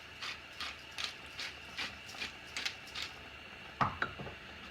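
A pepper mill grinding pepper over a leek dish in a kitchen, a series of about eight short ratcheting crunches at a steady rhythm, close and fairly quiet, ending with a couple of sharper clicks.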